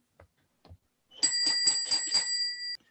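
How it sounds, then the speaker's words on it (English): In a radio drama, a few soft knocks or footsteps precede a bright bell ringing rapidly and repeatedly for about a second and a half, clear and close, then cutting off. "I observe that your boy doesn't answer the bell."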